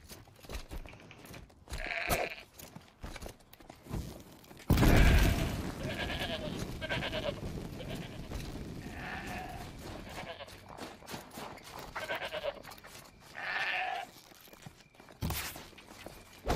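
Goats bleat in the Horizon Zero Dawn video game, several nasal wavering calls spread across the scene at moderate distance, mixed with footsteps, a sudden loud burst of noise and other game sounds.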